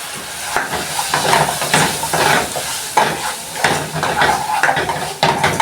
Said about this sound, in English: Then you add it into the food. And then you mix the food together.